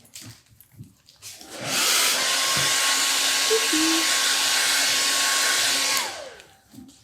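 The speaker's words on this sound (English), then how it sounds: "I am going to hit that with the blow dryer." A handheld blow dryer roars steadily for about four seconds while it dries stencil paint on a wooden porch sign. It switches on and winds down, with quiet handling sounds before and after.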